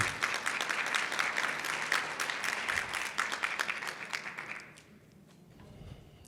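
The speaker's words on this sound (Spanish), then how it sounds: "Les pido de favor que brindemos un fuerte aplauso." An audience at an international academic colloquium on complex thought claps loudly and steadily, a dense crackle of many hands that thins out and stops near the end, leaving a quiet room.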